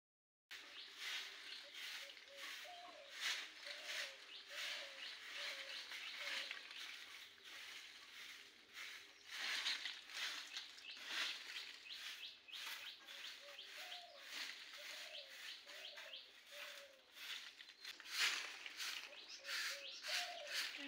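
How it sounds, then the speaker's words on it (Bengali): Several birds calling outdoors at a village home, faint repeated chirps and short warbling phrases over a constant hiss, continuing for the whole stretch without talk. "জানি কি পাখি ডাকছে।"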